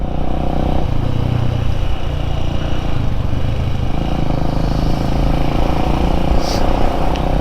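A Suzuki XL motorcycle engine runs on a road, a loud, continuous low drone with a steady rumble close by, and a voice talking over it.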